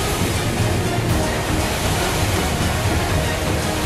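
Loud, constant typhoon wind (Typhoon Uwan) with broadband rushing noise, steady and unrelenting throughout, battering close by.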